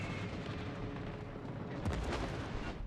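Bombs strike an enemy ship in World of Warships Legends, a low rumbling barrage of muffled booms, with a stronger cluster of impacts near the two-second mark, moderately faint under continuous game noise.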